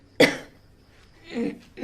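One sharp, harsh cough bursts out close by, followed after a pause by a softer throaty cough or clearing sound, with no talking.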